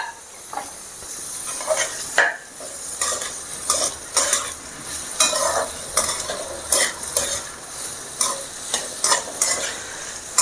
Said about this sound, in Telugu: సో అన్నీ వేసుకునేసిన ఆయిల్ అయితే ఇప్పుడు మనం దాన్ని కొంచెం ఫ్రై చేయాలి